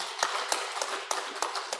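Members of a Won Buddhist congregation at a Gangnam temple Sunday service clap together in a steady, regular beat, the evenly spaced claps moderately faint and without talk.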